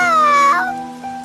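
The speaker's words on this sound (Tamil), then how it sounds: "ஏ குட்டி பூனை, எங்க இருந்து வந்த?" A kitten meows once, loud and close, its cry sliding down in pitch over a steady low hum, then trailing off into a fainter tail.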